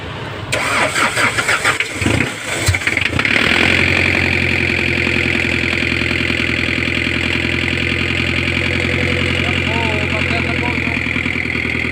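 A newly rebuilt engine cranks and starts after a few rough bursts, then settles into a steady, loud idle that runs on continuously.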